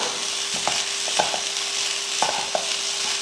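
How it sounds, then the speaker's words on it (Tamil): A spoon scraping and stirring beetroot egg rice in a pan over a low flame, intermittent soft clinks and scrapes over a faint steady sizzle, close and fairly quiet. "இப்போ அடுப்பை சிம்மில் வச்சுட்டு கலந்துக்கலாம்"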